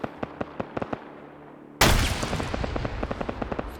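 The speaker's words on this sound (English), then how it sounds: "They getting shot at by Roster on the rear here." Gunfire in the military shooter Arma: a few sparse single shots first, then a sudden loud volley of close rapid rifle fire with cracks and echoes continuing steadily to the end.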